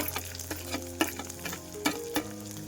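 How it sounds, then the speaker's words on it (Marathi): Finely chopped onion sizzling with garlic in a pan, steady frying crackle close by with a spatula stirring and scraping against the pan in several distinct knocks. "आता मी टाकून देणार आहे बारीक चिरून घेतलेला कांदा"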